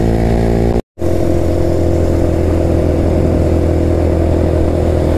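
A BMW motorcycle on a group highway ride from Jaipur to Chandigarh passes close by, its engine a loud steady drone with a brief dropout, other bikes running alongside.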